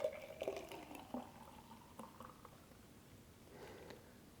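Juice poured off from a Kuvings B6000 whole slow juicer into a container on a scale, a faint liquid trickle and splash that starts a little stronger and tapers into a quiet, steady stream.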